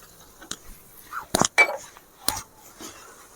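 A spoon stirs prawn kurma in a pan, giving a few sharp metallic clinks and scrapes spaced apart against a quiet background.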